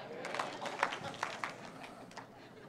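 Church congregation clapping during a sermon, a few scattered claps and light crowd noise, fairly soft and irregular, with a voice speaking alongside.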